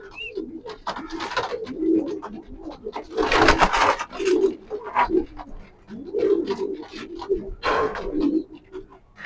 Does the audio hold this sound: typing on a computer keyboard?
no